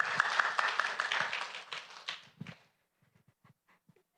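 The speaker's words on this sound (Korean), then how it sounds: "박수로 환영하겠습니다." Church congregation applauding to welcome a volunteer, a dense burst of clapping lasting about two and a half seconds, then fading to a few scattered claps and shuffles.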